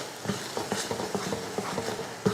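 Grated coconut is stirred into a jaggery syrup mixture in a pan, producing rhythmic scraping strokes roughly every half second, close and moderately loud, with no talking.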